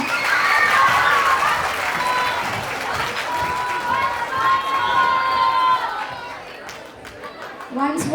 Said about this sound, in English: Please give a huge round of applause to them.